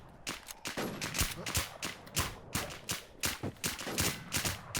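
Rapid bursts of video game gunfire crack out in a dense, uneven rhythm of close, loud shots, with brief gaps between volleys.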